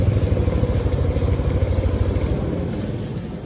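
A Yamaha NMAX V3 scooter engine runs with a rough, pulsing idle close by, then fades and dies toward the end as the kill switch cuts it off.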